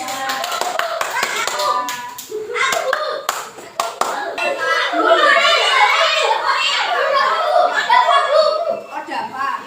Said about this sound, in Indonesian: tepuk tangan untuk Mbak Dila.